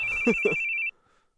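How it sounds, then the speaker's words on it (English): In a video game, a phone rings with an incoming call: a steady electronic tone lasting under a second that then cuts off, with a voice briefly speaking over it. "Oh, another phone call."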